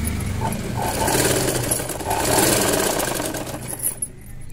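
Close, continuous whirring of a sewing machine stitching fabric alongside piping thread on a square neckline, a steady mechanical drone that eases off near the end.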